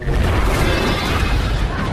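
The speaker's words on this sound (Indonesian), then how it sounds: "terjadilah ledakan yang sangat amat dahsyat" A huge explosion in an action film erupts as a dense, sustained roar and rumble that fills the whole stretch at high volume, with no voices.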